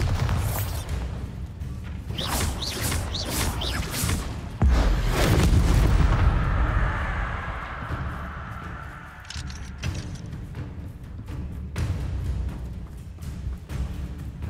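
Confringo and Bombarda spells blast in the Hogwarts Legacy video game, giving loud, booming explosions. Several sharp hits come early, then a heavier sustained blast rolls out and fades, followed by scattered smaller impacts.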